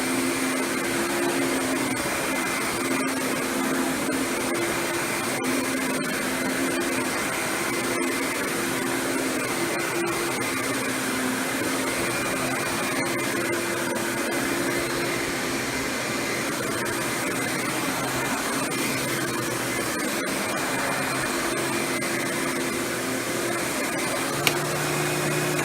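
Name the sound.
Riccar 8955 vacuum cleaner running, cleaning up mess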